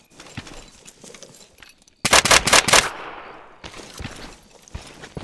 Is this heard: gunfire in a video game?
yes